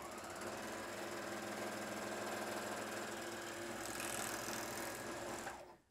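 A Juki MO-1000 serger stitches through two layers of stretch denim with a fast, steady mechanical whirr and rhythmic needle chatter, running close and continuous before stopping abruptly at the end.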